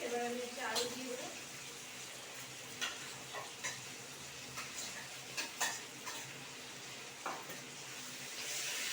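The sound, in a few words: potatoes added to hot pan and frying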